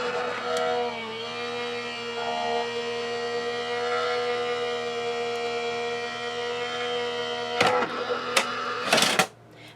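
Die-cutting machine cranking a card through a gray embossing folder on platform 4, giving a steady mechanical hum and whir with faint tonal drones, ending in a few louder clacks and rattles near the close.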